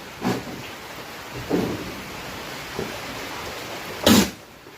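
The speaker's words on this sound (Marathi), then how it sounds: "असे जर बोकड शिंकलं ना मित्रांनो ह्या बघा शिंकतोय" A billy goat sneezes three times, faint and short snorting bursts spaced a few seconds apart over a quiet, steady background hiss.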